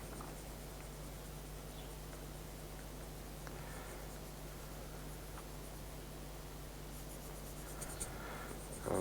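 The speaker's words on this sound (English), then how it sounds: "I'm doing a flat area of shading now," A pencil with a flat chisel point shades a flat area on paper, giving a soft, continuous scratchy rasp of graphite strokes, close and steady, with a low hum underneath and a brief louder rustle at the end.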